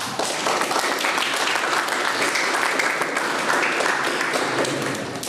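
Sustained, dense applause from an audience at a lecture on family law, steady and fairly loud throughout with no break, many hands clapping at once.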